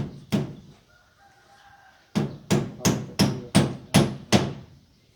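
Hammering during a light fixture installation: one sharp close strike, a pause, then seven steady, evenly spaced blows, with faint background tones in between.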